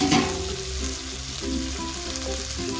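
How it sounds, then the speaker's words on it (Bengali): Potatoes and okra are frying in hot spiced oil, giving a continuous close sizzle with soft stirring and scraping mixed in, steady and fairly loud with no talk. "ঠিক এই পর্যায়ে দিয়ে দিচ্ছি আলু এবং ঢেঁড়স ভাজাটা"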